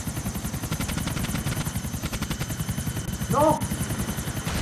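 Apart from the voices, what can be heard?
helicopter in the video game GTA IV The Lost and Damned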